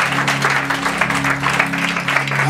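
A church congregation claps loudly throughout at a prayer and fasting service, a dense continuous wash of hands under a steady low hum.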